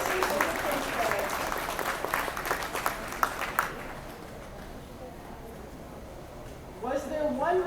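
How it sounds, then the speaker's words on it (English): An audience at a national alpaca show claps loudly through an adult costume class, the applause fading out midway, followed by a quieter stretch with a voice starting up near the end. "Let's give a big round of applause for Pink Pegasus and the Princess."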